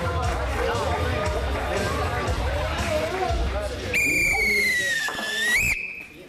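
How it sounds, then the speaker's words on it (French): Crowd at a French improvisation match boos the referee, a rising hooting jeer over general hubbub, with whistle-like tones sliding downward near the end. "Huez-le, s'il vous plaît"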